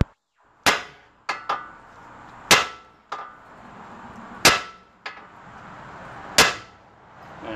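A hammer strikes metal on the rack and pinion of a 2012 Ford Focus Electric, giving about ten sharp ringing clangs at an uneven pace, close and loud.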